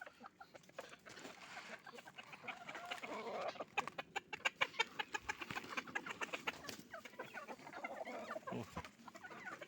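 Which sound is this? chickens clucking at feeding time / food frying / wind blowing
chickens clucking at feeding time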